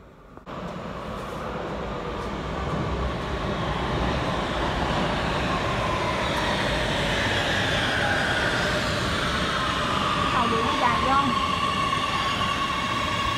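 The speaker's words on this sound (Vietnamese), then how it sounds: "2 phút nữa tàu điện nó tới anh chị." An electric train rolls into a station, a continuous rising rumble and hiss of wheels and motors that swells steadily over about thirteen seconds, with faint squeals near the end.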